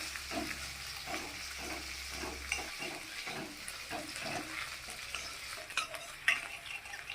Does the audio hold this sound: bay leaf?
yes